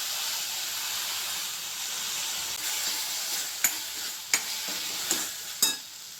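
Jackfruit seeds stir-frying in a pan give off a steady sizzling hiss, broken near the end by four sharp stirring scrapes and clacks.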